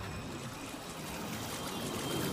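Water magic splashes and flows in an anime fight scene, a soft rushing trickle that swells slightly toward the end, faint and with no one talking.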